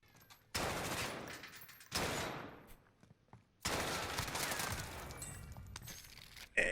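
Automatic gunfire in the Warzone video game comes in three long, loud bursts separated by short pauses, with a final shot cut off at the end.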